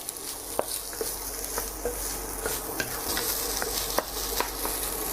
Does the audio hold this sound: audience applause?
no